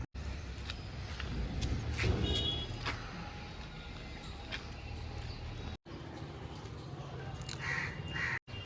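Crow cawing several times at a distance, repeated short calls over steady outdoor background rumble with brief gaps.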